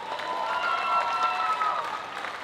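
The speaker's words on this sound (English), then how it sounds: "One more round of applause for our Taualuga team." Applause from the audience at an end-of-year Taualuga dance recital, a steady wash of clapping across the hall with a faint sustained tone running under it.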